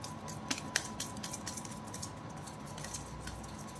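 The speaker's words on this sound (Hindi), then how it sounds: "this is my last shuffle" Tarot cards are shuffled in a quiet room, with soft, rapid riffling and light flicking taps of card edges, close but faint, over a low steady hum.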